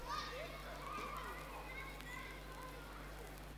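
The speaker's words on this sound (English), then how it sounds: "Also got like a crowd noise with kids playing in the background" Sampled crowd ambience of children playing and chattering, used as a background layer in a hip-hop beat, with a steady low hum beneath the busy, moderately loud, continuous texture.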